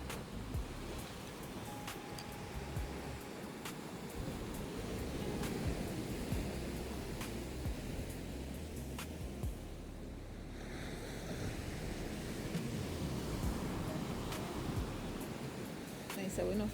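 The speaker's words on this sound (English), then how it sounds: "The Atlantic Ocean." Atlantic Ocean surf at Cape Coast, Ghana, washes in as a steady broadband roar with wind buffeting the microphone, continuous and fairly near for the whole stretch.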